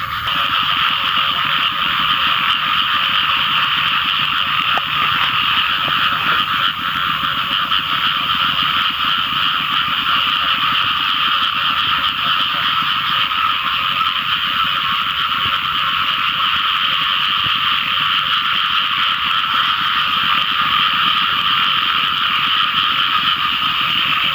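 Frogs croak in a thick, unbroken chorus after the first rain, loud and constant throughout, with no voices and only a faint low background rumble.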